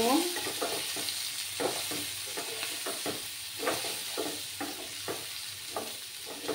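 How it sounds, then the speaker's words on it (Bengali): Kashmiri chili powder is stirred into frying vegetables, a continuous sizzle broken by repeated scraping and tapping of a spoon against the pan, close and fairly quiet. "আর হাফ স্পুন কাশ্মীরি লঙ্কার গুঁড়ো দিলাম। দিয়ে এবার আমি ভালো করে এটাকে মিক্স করে নেব।"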